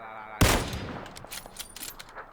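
Gunfire in the battle game PUBG: one sharp, loud shot bursts in, followed by a scatter of fainter, more distant shots and crackles as the firefight carries on.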